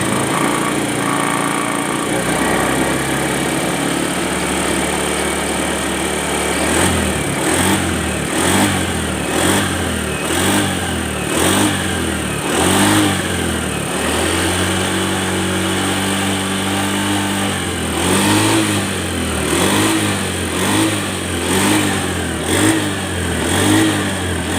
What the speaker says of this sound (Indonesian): Oke, ini motornya sudah hidup.